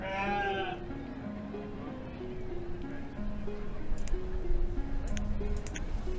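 Sheep in the village-building game Banished bleat with a wavering cry at the start, then a simple tune plays on with faint clicks and soft background noise.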